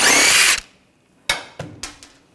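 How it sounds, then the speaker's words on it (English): A power tool on a 2007-2013 BMW X5 wheel lets out a loud half-second whir as it spins off the last lug nut, followed by several sharp metallic clunks. "Before I take the last lug nut off, I'm just going to hold the wheel from falling and take this off."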